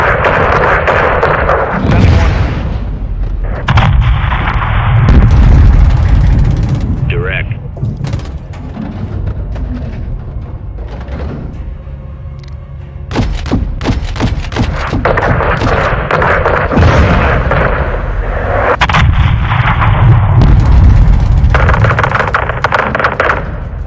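Gunfire and heavy booming impacts rain down on a convoy in the video game Call of Duty: Modern Warfare 2 (2022), loud and dense with repeated bursts over a rumbling battle backdrop while radio voices talk throughout.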